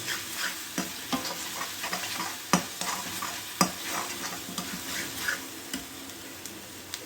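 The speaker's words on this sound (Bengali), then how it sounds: "এবার দিচ্ছি 1 চামচ পরিমাণে হলুদের গুঁড়ো। হলুদের গুঁড়োটা মিশিয়ে নিচ্ছি।" Turmeric powder stirred into nut chicken curry frying in a pan, a steady sizzle broken by repeated sharp scrapes and knocks of the spoon against the pan, close and fairly loud, with no voices.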